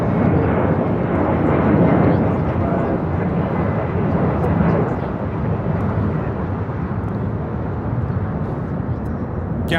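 A jet airliner taking off at LAX, a loud sustained roar that swells and then eases slightly, heard from a distance with faint voices beneath it.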